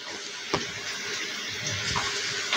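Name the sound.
water poured into potato curry mixture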